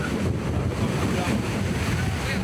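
Wind buffets the microphone as sea surf washes against a rocky shore, making a loud, continuous rushing roar with no clear breaks.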